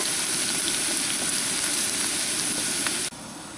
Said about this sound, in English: if you're going to cook fried potatoes, you know, it takes a little bit of time